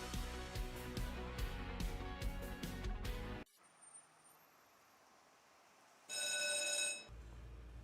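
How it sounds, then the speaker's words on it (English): A telephone rings in a business phone line advertisement, a short bright ring burst heard after a stretch of music and then quiet. "We provide the ring you love to hear."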